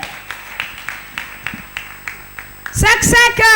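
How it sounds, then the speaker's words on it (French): A church congregation clapping for Jesus in a steady rhythmic beat of sharp hand claps, then a loud voice rises over the clapping near the end. "Acclame très fort pour Jésus"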